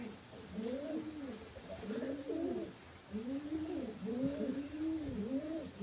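Pigeons coo steadily in a pigeon loft, several birds overlapping in soft, repeated rolling calls that rise and fall in close, continuous rhythm with no talking.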